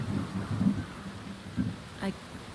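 Rainstorm with thunder in the video game Whispers of a Machine: low rumbles of thunder roll in irregular bursts over a hiss of steady rain, with a short sharper crack near the end.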